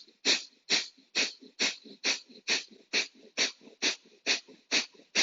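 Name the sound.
breath of fire panting breathing exercise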